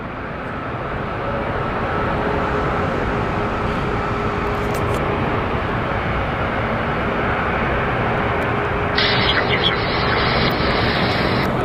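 Steady broad jet engine roar from airliners at Seattle's airport during plane spotting, loud and continuous throughout with a higher whine entering near the end.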